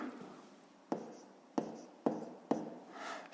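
Pen strokes writing numbers by hand during a fifth-grade math exercise, four short distinct scratches at a steady pace, close and fairly quiet, with no talking.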